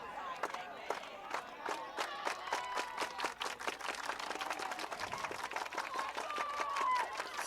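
Spectators at a prep baseball game between Coalfield and Eagleville clapping in a fast, steady staccato rhythm, moderately distant, with crowd noise and voices underneath.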